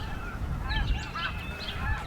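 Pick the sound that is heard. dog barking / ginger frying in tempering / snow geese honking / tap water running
snow geese honking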